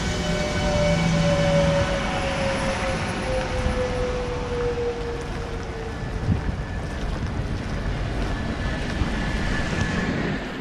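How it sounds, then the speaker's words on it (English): An SNCB M6 double-decker train rumbles into Blankenberge station with a continuous low roar and wind buffeting, a fading tonal whine sliding downward as it slows, no voices. "here we can see the station of Blankenberge and our train arriving there"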